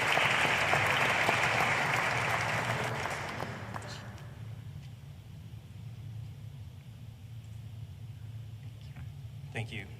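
Loud applause from a crowd at a school governing board meeting fills the first few seconds, then fades into scattered claps and murmuring room noise.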